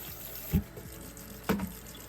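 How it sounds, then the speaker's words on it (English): Garden seeds rinsed in a colander under running water, a soft steady trickle with two brief louder splashes, close by and without voices. "Put them in a colander or something that you can rinse them in. And give them a good wash all the way around."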